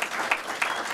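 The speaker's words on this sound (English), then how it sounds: "A round of applause" Brief burst of audience applause at a youth ministers conference ceremony, moderately faint and dense, with a couple of sharper claps standing out.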